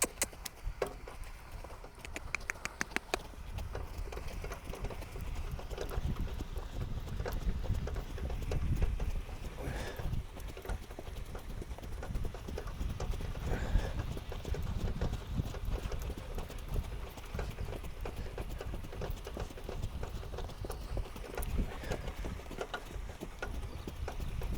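A trotter horse's hooves clip-clop in a steady, continuous rhythm at close range over about twenty-five seconds, with faint background noise and little talk.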